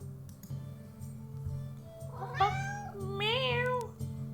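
A pet cat meows twice in close succession, each call clear and near with a rising-falling tone, over a low steady background hum.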